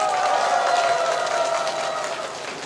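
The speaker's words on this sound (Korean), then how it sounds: "여러분들 큰 박수 한번 쳐주십시오" An audience claps steadily at a political rally in Chungju for a visiting party figure. The dense, sustained applause stays loud for the whole stretch, easing slightly toward the end.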